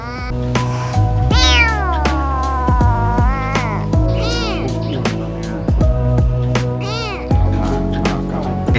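A cat meows repeatedly while being fed, its loud, rising and falling cries coming one after another close to the microphone, with no talking over them.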